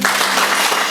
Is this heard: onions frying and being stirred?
no